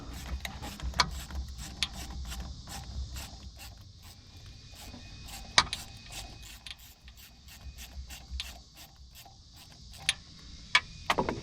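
A 10mm socket ratchet loosens a hose clamp on the lower radiator hose of a 2.4L Jeep Renegade, giving a close, fairly quiet run of irregular clicking pawl ticks with scraping and handling noise in between.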